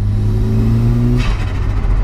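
A turbocharged Saab engine fitted in a Vauxhall Astra pulling hard in second gear, a loud steady drone that drops off partway through as the revs change, heard from close up.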